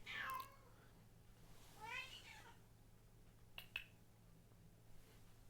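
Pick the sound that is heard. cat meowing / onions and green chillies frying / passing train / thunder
cat meowing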